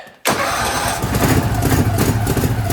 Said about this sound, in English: see how she cranks